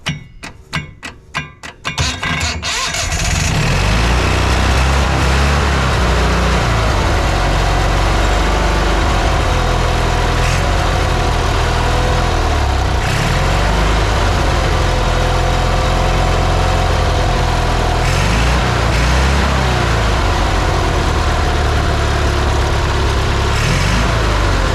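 Yanmar track dumper diesel engine bought at auction, cranking with a few rapid knocks before catching, then running loud and steady at full throttle with a rough mechanical rattle, close up and with no talk.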